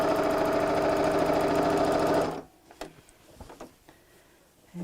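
A sewing machine stitches across the handles of a tote beach bag in a steady, close mechanical whir for about two seconds, then stops, leaving faint clicks and handling sounds.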